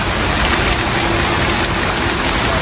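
Heavy rain pouring by a roadside in Indonesia, a dense, steady hiss that stays loud and unbroken throughout, with no voices.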